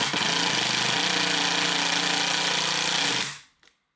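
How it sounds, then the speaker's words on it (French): An impact driver drives a screw into a workpiece, giving a loud, steady rapid hammering rattle for about three seconds before the trigger releases and it spins down, followed by a faint click. "si on entend ce bruit-là pour une visseuse à choc"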